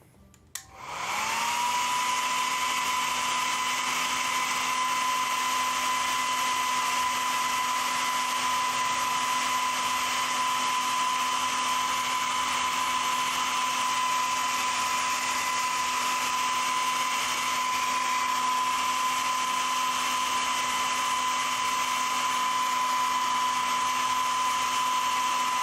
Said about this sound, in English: more hair dryer.